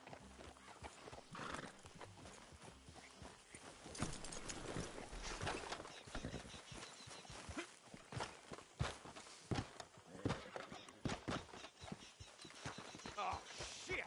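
Horses walking in the Red Dead Redemption video game, hooves clip-clopping steadily amid busy game sounds, with an occasional whinny and faint background activity.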